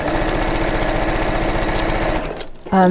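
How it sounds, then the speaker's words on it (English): A sewing machine fitted with a universal needle stitches through a simple fabric bag, running as a loud, close, steady mechanical whir that stops abruptly near the end. "I have just got a universal needle on here, Steph."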